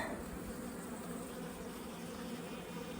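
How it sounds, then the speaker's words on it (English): A dense, steady drone of honeybees fills a hive in Canada, close and continuous, with many wings humming together and no voices. "Life is pretty tough, especially in Canada when you're a honeybee."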